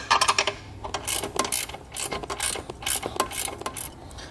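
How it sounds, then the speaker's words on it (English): Box wrench loosening a 13 mm nut on a car horn bracket, 2020 Chevrolet, giving a rapid series of sharp metallic ratchet clicks in bursts, close and fairly loud, with no talking. "if we just take a box wrench here, we should be able to loosen that nut and let this hang down"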